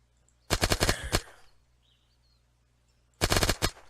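Compact Uzi-like submachine gun fired in the video game Unturned: two separate rapid bursts of about seven or eight sharp shots each, loud and close, with a quiet gap between them.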